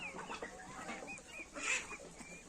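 Chickens cluck softly close by in a farmyard, a quick series of short, chattering calls with no voices.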